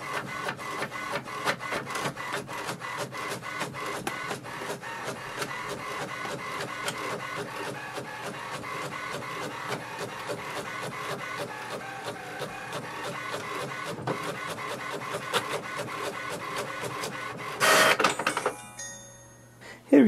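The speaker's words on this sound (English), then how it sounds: "Here we can see the printer has printed the welcome sheet as well." HP Envy 6030 inkjet printer printing a welcome sheet, with a steady run of rapid mechanical clicks and whirring passes that ends in a louder burst as the page feeds out, with some talk in the background.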